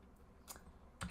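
A few quick, soft keystrokes on a computer keyboard in a quiet room, close and faint, with a slightly firmer pair of clicks at the end.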